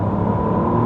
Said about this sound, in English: go into sport, engine is kicked in